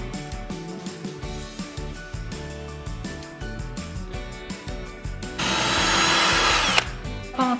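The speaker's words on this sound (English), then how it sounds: "Clamped and screwed the shelf on." A power drill drives 1.5 inch number 10 screws through a countersunk wooden shelf, with a whirring motor and repeated bursts and a louder sustained run near the end, close up with no talking.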